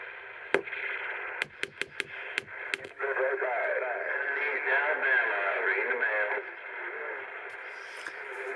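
CB radio DX skip reception on New Year's Eve 2024, with loud continuous static hiss and distant, warbling voices chattering through it, broken by sharp clicks and pops early on, with no noise limiter engaged.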